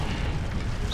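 An Incendio fire spell bursts in the wizarding game Hogwarts Legacy, a brief dense whooshing roar of flame, loud and close, lasting about a second.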